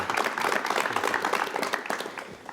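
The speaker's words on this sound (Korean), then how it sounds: "여러분 뜨거운 박수를 부탁합니다." A television studio audience applauds a Korean composer being introduced, a steady, close burst of many hands clapping that softens slightly toward the end.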